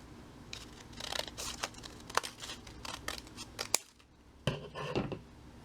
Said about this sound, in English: We're going to cut this part off.